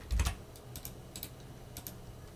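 Keys on a computer keyboard are tapped in short clusters to enter a Linux terminal command: quiet, close clicks in a few quick bursts with small gaps.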